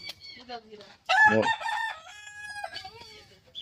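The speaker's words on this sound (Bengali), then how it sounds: "এই যে দেখেন আমাদের দেশি মোরগটা" A large local rooster on a village farm crows one loud cock-a-doodle-doo up close, with a few short clucks around it.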